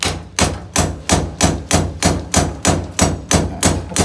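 Steady hammer blows strike a hollow concrete block at a construction site, about ten sharp, evenly spaced impacts ringing close and loud, with no speech.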